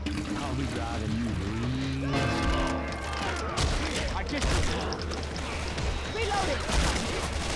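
Gunfire from survivors fighting the infected in the zombie shooter Left 4 Dead 2: a dense, continuous clatter of shots and impacts mixed with game noise, while players talk over it.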